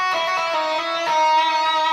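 Distorted electric guitar plays a sustained, bending lead note from a song's solo, alone and loud with a rich harmonic buzz and two picked attacks.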